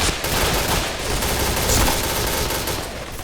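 Rapid automatic gunfire in the shooter video game Point Blank rattles loudly and almost without pause, a dense burst of shots over a few seconds.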